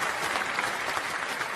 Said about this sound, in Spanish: Vamos a poner los aplausos.